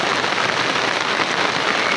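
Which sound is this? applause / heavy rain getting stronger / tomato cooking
heavy rain getting stronger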